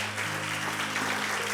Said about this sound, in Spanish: Y yo quiero que ustedes se den un aplauso a ustedes mismos.